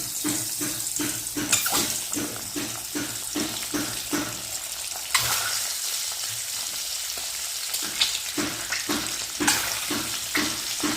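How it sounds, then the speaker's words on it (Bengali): Eggs dropped into hot oil for an egg curry, giving a steady crackling sizzle with repeated sharper spatters and scraping clatters, close and continuous. "এখন গরম তেলে ডিমগুলোকে ছেড়ে দেবো।"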